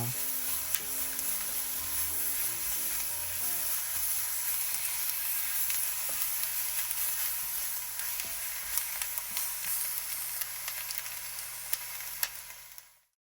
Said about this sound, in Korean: 마지막으로 깨 1티 넣고 볶아 마무리해 주세요.